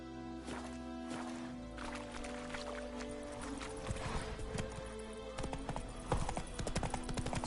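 A horse gallops in The Witcher 3 video game, with steady hoofbeat clip-clops, snorts and in-game ambience over a low music bed, close and moderately loud throughout.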